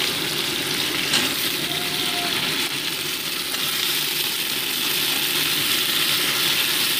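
Chopped seasonal vegetables sizzle in hot oil in a pan, a steady, close crackling hiss that continues evenly throughout with no talking.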